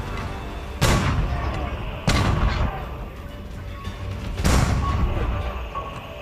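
Stone thrower siege engines firing in the Age of Empires 4 campaign battle at the Ugra River in 1480, three heavy booming launches with rumbling decay, loud and evenly spaced across the battle ambience.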